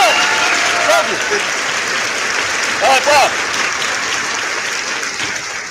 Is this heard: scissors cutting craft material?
no